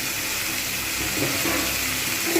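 Potato pieces frying together in hot oil for a Bengali potol aloo posto, a steady broadband hiss with faint splashy crackles, fairly close and continuous with no talking.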